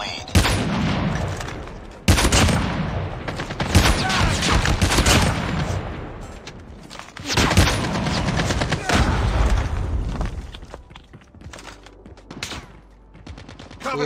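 Arctic 50 sniper rifle fire in Call of Duty Mobile, several loud, sharp shots spaced a few seconds apart, each with a brief ringing tail, set among busy in-game battle noise.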